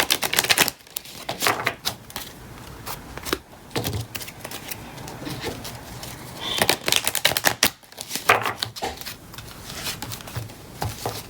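Cards being shuffled and drawn from a Mary Queen of Angels oracle deck, with rapid papery riffles and flicks coming in bursts, close and fairly loud, with short pauses between handling.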